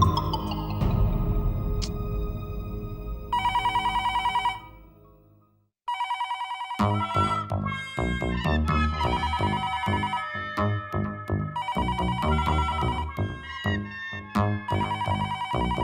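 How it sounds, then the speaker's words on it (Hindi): A telephone ringtone plays in repeated melodic bursts, loud and close, with a short silent pause partway through before the ringing resumes. "घंटी भी बज रही है, लेकिन बापूजी फोन नहीं उठा रहे।"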